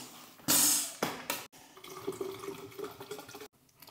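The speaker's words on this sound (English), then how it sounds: "let me pour some water in here. This is sparkling water" Sparkling water pours into an Air Up bottle in a close, fizzy rush that starts loudly, breaks off briefly and then settles into softer bubbling and trickling.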